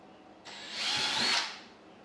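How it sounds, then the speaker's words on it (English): A power drill bores a bottom hole through a kayak hull for an anchor trolley install, a single loud whirring burst of about one second that swells and fades, close by with no talking. "I'm going to drill my bottom hole."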